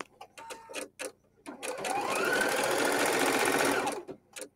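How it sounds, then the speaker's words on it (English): A Husqvarna Viking embroidery machine fitted with a cutwork needle cuts fabric, opening with a few separate mechanical clicks and then a steady rapid whirring stitch for about two seconds, close and clear, before it stops. "I'm going to press the start button just as you would do for your normal embroidery, and it will start to cut."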